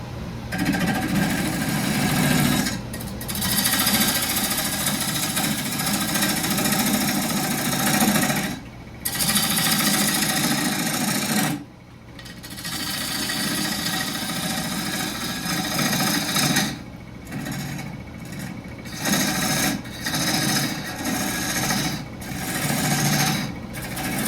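A wood lathe spins a bowl blank while a half-inch bowl gouge cuts it, giving a loud, continuous rough grinding hum close by, broken by several brief pauses as the tool lifts off the wood.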